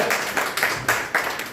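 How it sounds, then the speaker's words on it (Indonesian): A church congregation claps in praise during an Indonesian sermon, giving a few quick, fairly sharp rhythmic claps spaced evenly across a short moment, moderately loud and close. "Tepuk tangan buat Tuhan Yesus."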